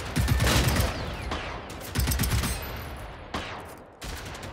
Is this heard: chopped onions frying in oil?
no